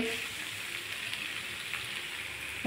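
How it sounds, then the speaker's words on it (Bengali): Food sizzles steadily in oil in a pan, a soft continuous frying hiss with faint stirring scrapes, heard alone at low level. "এ দেখো নাড়ছি, কারণ এটা নাড়তে হবে।"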